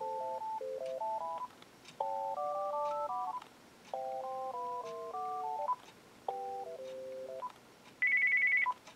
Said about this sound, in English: Yep, it's got all the standard ringtones.